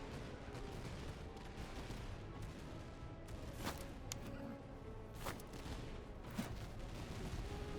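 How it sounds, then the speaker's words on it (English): Musket volleys from a Commonwealth army assault column in the strategy game Iron Marshal, scattered distant shots popping irregularly over a steady low battlefield background, fairly faint throughout. "And you can go ahead and start shooting at them."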